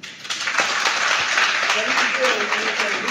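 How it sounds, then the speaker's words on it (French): A room at a press conference bursts into applause for a speaker, dense and steady clapping at close range, with a voice talking over it. "Et comment ne pas applaudir encore une fois ce monsieur?"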